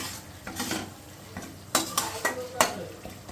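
A curd and spice masala for dahi katla is stirred and fried in a pan, producing a soft sizzle with several distinct spatula scrapes and clanks against the metal.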